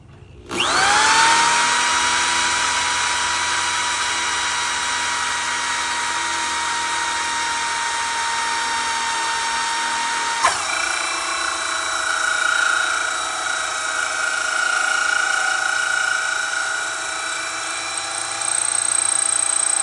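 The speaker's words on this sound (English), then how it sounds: "I'm going to start drilling" A power drill whirs steadily and loudly at close range while drilling wood, its pitch dipping briefly partway through before running on at high speed.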